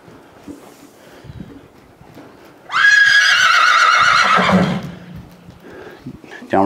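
A horse being turned loose during a horsemanship session gives a loud, shrill whinny lasting about two seconds, with quieter background talk and some shuffling before and after.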